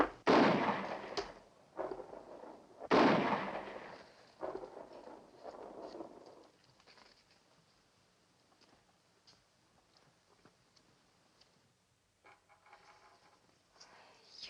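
Gunshots as a man shoots at squirrels, heard as two loud, booming blasts early on, each followed by rumbling decay, then a quiet stretch with faint background sound.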